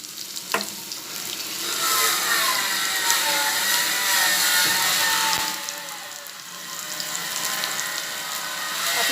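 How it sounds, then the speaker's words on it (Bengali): Woodworking machines building doors and windows give off a continuous rattling, grinding mechanical din. The noise is fairly loud, dips briefly midway, then returns, with no voices heard. "কাঠের কাজ হচ্ছে তো, তাই জানলা দরজা বানানো হচ্ছে, তো মেশিনের আওয়াজে আপনাদের শুনতে একটু অসুবিধা হচ্ছে।"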